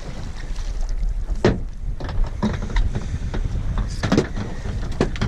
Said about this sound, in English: Old sinker on the side of the boat noise.